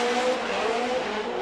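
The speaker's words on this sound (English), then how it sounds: "Right now, it's all about Jonathan Castro. Jonathan Castro, Jadu Metaldom Nexentires GT86" A Toyota GT86 drift car on track during Formula Drift qualifying at Long Beach runs on Nexen tires, its engine holding a steady high-pitched drone mixed with tire squeal, loud and continuous.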